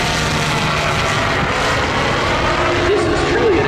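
Revolt weight-shift aircraft from Evolution Aircraft with a 100 horsepower Rotax 912 engine in flight, a loud continuous engine drone and propeller roar holding steady throughout.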